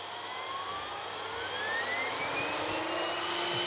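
A Miele S5211 vacuum cleaner runs at full power with a loud, steady whirring roar whose pitch climbs gradually as it spins up, close by and with no voices.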